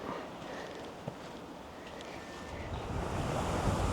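The Oita River in Oita, Japan, makes a steady, broad rush of flowing water with some wind noise on the microphone, swelling louder toward the end.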